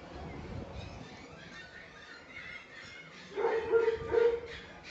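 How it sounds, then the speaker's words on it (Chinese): Several dogs at a kennel and shipping area bark and yip in short bursts, a few louder near the end, with indistinct voices and a fan-like background hum. "看看这边好多狗狗，你看外面都是"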